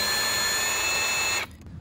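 A power drill bores into a custom subwoofer box with a steady, loud high-pitched whine that cuts off abruptly near the end, leaving quiet room noise.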